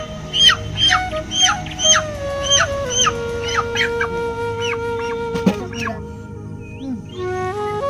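Chickens at a poultry seller's shop give a rapid series of sharp, repeated clucks and squawks up close, then a sustained tonal call, with faint background noise and no clear talk.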